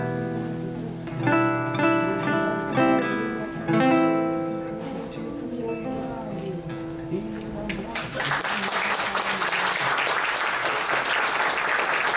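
An audience at a public-service talk breaks into applause after a sung or spoken passage; tonal voices fade out and dense, loud clapping takes over for the final few seconds.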